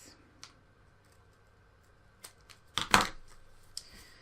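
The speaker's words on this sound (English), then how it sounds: "Snip off the excess." Scissors snip off the excess of a strip of self-adhesive ribbon on a scrapbook page, giving a brief cluster of crisp cutting clicks near the middle amid a few quiet taps, close and alone.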